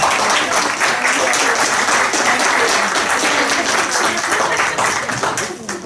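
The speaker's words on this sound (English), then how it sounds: "She can just stand, so we can give a nice round of applause." Town hall audience applauding an honored woman, a dense, steady round of clapping that stays loud throughout and fades slightly at the end.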